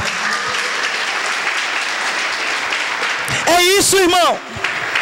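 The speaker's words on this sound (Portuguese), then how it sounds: "Quem crê nisso, aplauda o Senhor bem forte" A church congregation applauds the Lord during a sermon, a loud, sustained roar of clapping, with a voice calling out over it near the end.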